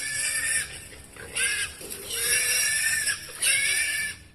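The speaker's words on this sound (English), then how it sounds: "The video starts off with your usual wild boar noises." Wild boars caught on a forest trail camera give a string of high, squealing grunts and whinny-like cries in short bursts, fairly close, with no talk.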